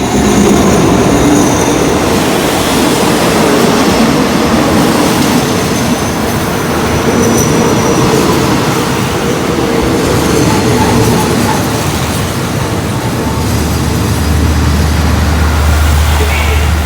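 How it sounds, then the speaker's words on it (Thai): Alsthom 4130 diesel locomotive hauling express train 86 into Ban Pong station, Thailand: a steady, loud rumble of rolling train and rail noise continues throughout, with a low engine drone rising near the end. "วันนี้ทำขบวนโดยอันต้อมนะครับ อันต้อม4130 ครับ"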